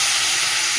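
Water hits a hot pan of fried semolina with a brief, steady, bright sizzling hiss, close and loud.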